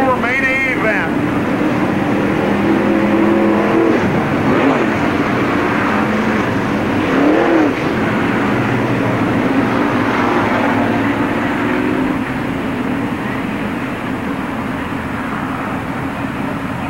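Stock cars from the NASCAR Busch All-Star Tour roll around Park Jefferson Speedway behind the pace car before a 50-lap race start, a steady droning engine roar throughout, with crowd and track noise and an announcer talking over it.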